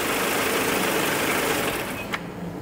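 A Mercedes 190E engine with rough running and starting trouble idles with a low, steady, slightly uneven hum, near and continuous, with a short click toward the end and no talk.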